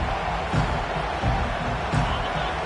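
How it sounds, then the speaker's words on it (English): Football stadium crowd giving a visiting team a loud hostile welcome, a constant dense roar that fills the space with only slight swells, and no gaps. "This crowd bringing an ear-splitting welcome to their visitors."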